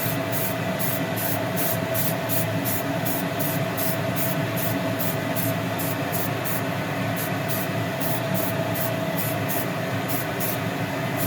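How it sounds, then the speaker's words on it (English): Steady hiss of spray paint from an aerosol can, continuous and close, with a faint rhythmic ticking above it throughout. "you start applying it just like regular spray paint"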